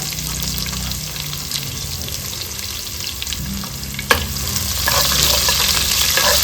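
Finely chopped onions with mustard seeds and curry leaves fry in hot oil, a continuous close sizzle broken by one sharp utensil knock, then the hiss swells louder as stirring continues.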